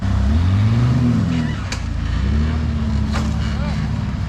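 Off-road rock crawler engines at a rock crawling event in Australia, revving and labouring loudly in uneven surges as a car is pulled over with a strap, with talk over them.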